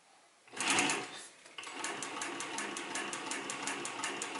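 An Adler 167 or Bernina 217-N industrial sewing machine with a servo motor stitching, a brief whir and then a steady, rapid mechanical clatter of the needle that stays close and even.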